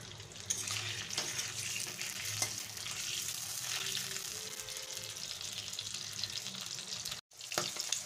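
Peeled boiled eggs fry in oil for a cauliflower egg curry, giving a steady, soft hiss and crackle with occasional utensil clinks and a brief dropout near the end.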